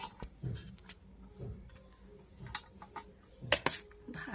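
Dishes clink as rice is served onto a plate beside mashed potato, dal, fried egg and eggplant curry, with scattered light taps and scrapes and a couple of sharper metallic clinks near the end.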